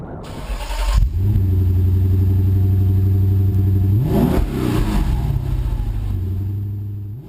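A 2017 Nissan Titan SV pickup truck starts off and drives, its engine note steady and droning, then rising through a gear change midway before settling again; loud and close, with no talk.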